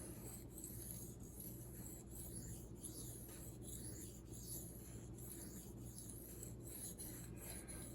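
A knife blade rubbed back and forth on a budget splash-and-go waterstone, a soft rhythmic rasping stroke repeated about every half second, close and quiet, with no talk.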